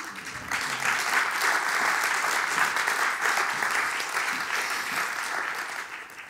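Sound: audience applause

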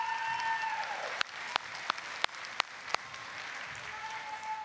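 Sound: audience applause at kindergarten graduation

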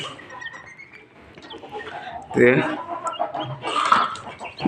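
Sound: quails calling loudly

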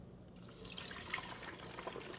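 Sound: chicken stock poured into a fat separator container

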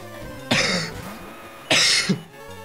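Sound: cough

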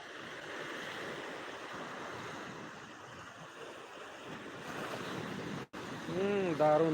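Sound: sea waves on Digha beach

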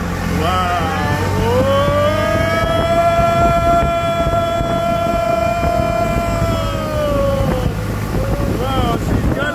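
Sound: river tour boat engine running at full throttle

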